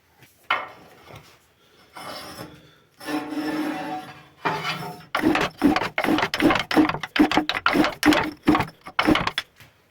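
Straight metal scraper pushing ash down inside a pellet boiler during cleaning, first slow rough scraping, then a fast run of repeated rasping strokes, close and fairly loud.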